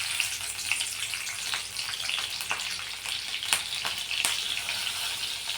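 Green chili pieces sizzle steadily in hot oil in a pan while cooking leafy greens, a dense bright crackle with scattered sharper pops, close and alone without any talk.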